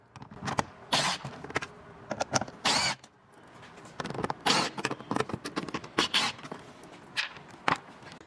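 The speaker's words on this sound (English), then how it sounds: "now that you remove your 4 torque bolts" Four torque bolts are removed from the 12-volt battery of a Ford C-Max: close, short bursts of metallic clicking and rasping come in quick irregular runs, with no talk.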